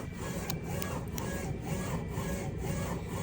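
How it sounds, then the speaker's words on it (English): A Prestige R2 Pro DTF printer at work, giving a steady mechanical hum and rumble with soft rhythmic swishes of the print head moving back and forth, close up and continuous. "So you see it printing."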